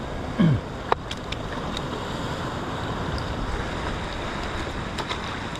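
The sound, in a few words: big waves breaking on the shore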